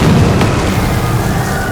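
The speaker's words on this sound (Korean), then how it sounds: "원소령의 명령을 받아 추대령을 도청하던 도중 갑자기 그 건물에 폭발이 발생한 건데요" A loud explosion goes off inside a building in a drama scene. It hits as a heavy, rumbling boom that fills the whole moment with dense low roar and crackle.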